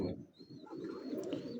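Racing pigeon giving a low, soft cooing murmur close by, with faint higher chirps in the background, quiet and brief.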